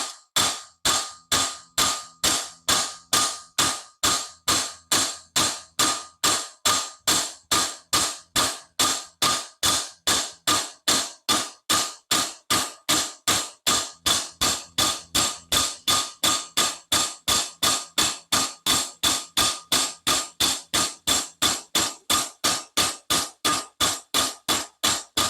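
A chisel hammer strikes hardened steel again and again to bend it, sharp metallic blows landing in a fast, steady rhythm of about two per second for the whole stretch, close and loud.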